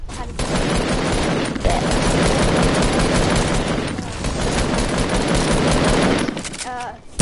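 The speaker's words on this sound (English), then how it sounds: "It sounds like real gunshots." Continuous loud video-game gunfire rattles in rapid automatic bursts, dense and close, with a brief lull midway before firing resumes.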